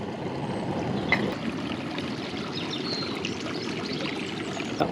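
Water heats in a pot outdoors during bushcraft water preparation, with slight bubbling well short of a rolling boil: a soft, continuous trickling hiss with faint gurgles and an occasional small pop.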